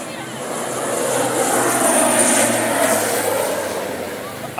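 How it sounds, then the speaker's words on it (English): A low-flying airplane comes in to land over the beach at St Maarten, its engine roar swelling steadily loud and close and then holding, with people talking beneath it. "that's where the planes come in"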